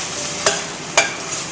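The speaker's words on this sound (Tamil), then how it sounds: "இப்போ நல்லமா வதங்கிடுச்சு" Drumstick (moringa) leaves being sautéed in a pan for soup: a steady soft sizzle with two short, sharp scraping stirs of the spatula, close and alone.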